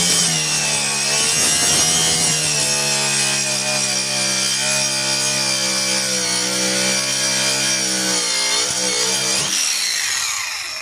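A Mailtank MK15 cordless brushless grinder runs in cut mode at maximum RPM, a loud, sustained high-pitched whine with shifting harmonic tones that holds steady before dropping off near the end, with no voices.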